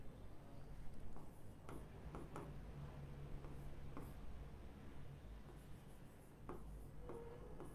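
Marker or chalk writing on a board during a psychology lecture, a steady soft scratching with short strokes and taps, faint and close, over a constant room hum with no speech.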